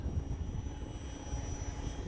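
A Durafly Tundra V2 RC airplane flies on a windy day, its motor a steady droning hum with a thin whine over constant low wind rumble, without pause and with no talking.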